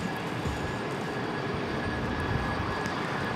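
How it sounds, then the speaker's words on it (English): Southwest airliner at Raleigh-Durham airport preparing for departure, a steady broadband engine roar with a thin high whine, continuous and moderately distant. "Southwest over here on this side, getting ready for departure."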